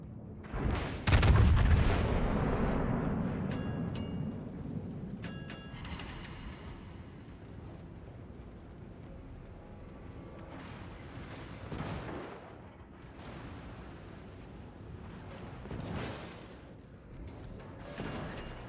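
A battleship's guns fire in a naval video game: one loud deep boom near the start with a long rumbling decay, then fainter distant thuds and in-game chimes scattered across the rest.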